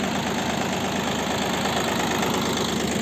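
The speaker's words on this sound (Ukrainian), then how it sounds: "Робота, звісно, з турбіною набагато тихіше, взагалі не чути вихлопа" A turbo diesel engine on a small farm machine runs steadily and loud at close range, a continuous even drone with a fine rhythmic knock and no talk over it.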